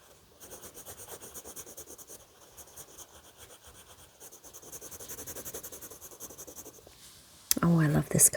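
Pencil sketching on paper while drawing a bear in a scarf beside a snowy tree, a soft continuous scratchy rubbing at close range with steady strokes, ending in a louder burst of handling noise.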